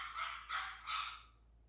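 A dog barks three times in quick succession, loud and close, in a quiet room with nothing else going on.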